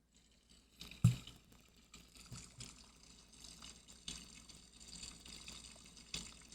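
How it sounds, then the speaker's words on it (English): Water seeping and trickling into a flooded basement, a faint, steady wet rush with soft splashes and a few louder drips, heard alone without talk. "This is the sound of the water coming into my basement right now."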